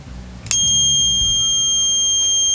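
Sound generator on a homemade universal prototype board, powered by a 5.5 V supercapacitor, switches on with a sudden electronic tone that holds steady and loud, a sustained high beep ringing alone over faint low hum.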